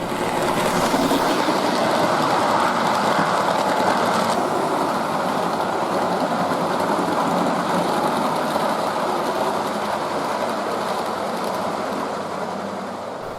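A Hornby A4 model locomotive runs along a layout with a steady whirring motor hum and rolling wheel rumble, loud and close throughout before fading slightly at the end, with no talking.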